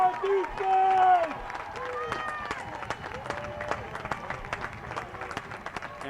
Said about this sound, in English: this partisan Falcon crowd making a lot of noise